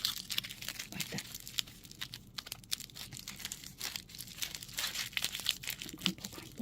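Close, quiet hand crumpling of material for a miniature spooky tree diorama, heard as irregular bursts of crinkling and crackling that continue throughout.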